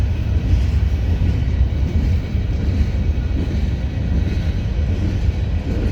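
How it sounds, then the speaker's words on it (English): A CSX freight train with two engines rolls past near Brunswick yard, a loud, continuous close rumble with steady rail clatter and no voices. "Yeah, finally got the end of the train down there yonder."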